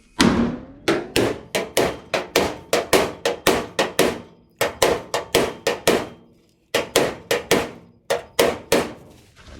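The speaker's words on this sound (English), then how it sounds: "So my use of the anvil here is going to be a little unconventional. I'm actually going to use the anvil as the hammer." Heavy metallic blows ring out in rapid bursts of about a dozen strikes each, separated by short pauses, loud and close, as an anvil is used as the hammer to reshape a 1964 Impala fender.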